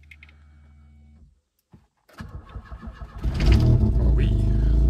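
A Rover 220 coupé is started: first a low hum and a pause, then the starter cranks in rapid uneven pulses before the engine catches and settles into a loud, close idle.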